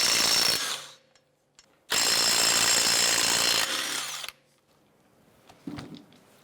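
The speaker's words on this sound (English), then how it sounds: "Using an 18mm socket, you want to go ahead and remove the lug nuts." An impact or power tool whirs loudly in two long bursts, spinning lug nuts off the wheel of a 2011-2018 Volkswagen Jetta with an 18mm socket, followed by quiet pauses and a faint metallic clink.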